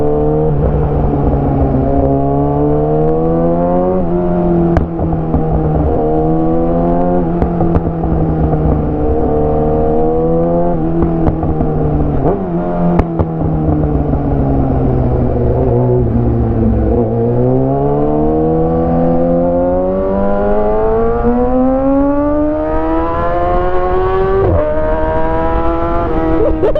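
A Kawasaki ZX6R motorcycle with a loud SC Project CRT exhaust roars up close, revving hard and accelerating through the gears, its engine pitch climbing and falling repeatedly in a continuous, dominant blare.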